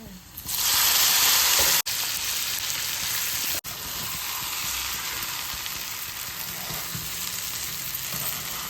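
Loud, steady sizzling as lentils are dropped into hot tempering oil, a bright crackling hiss that starts abruptly and continues evenly with brief stir-like breaks.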